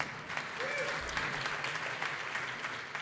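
An audience at a cantor's anniversary concert applauds steadily, a dense, even wash of clapping from a crowd throughout, with a brief voice heard faintly above it.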